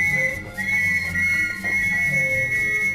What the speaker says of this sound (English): it was he that blew the whistle and raised the alarm